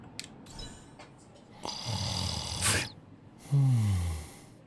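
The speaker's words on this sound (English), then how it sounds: "That's a loud snore." Loud snoring from a sleeping character in the Honkai: Star Rail video game, with a couple of deep rumbling snores and snorts interspersed with gasping breaths, close and alone.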